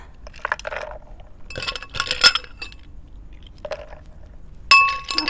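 Ice cubes dropped into a glass holding a freshly strained margarita, giving several sharp, close clinks and rattles in short bursts, the last one loudest, with no talking.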